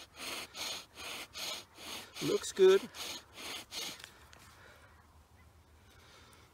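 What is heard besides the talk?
bow drill friction on wood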